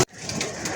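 Pigeons in a backyard coop give soft, brief cooing calls, close by, after a sharp click at the start.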